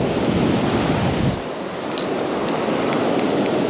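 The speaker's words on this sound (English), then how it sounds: "The east wind is pretty dramatic" A strong east wind and crashing surf on a fishing beach make a dense, steady roar. Heavy low wind buffeting dominates at first, then eases slightly, leaving a broad hiss of waves. No voices.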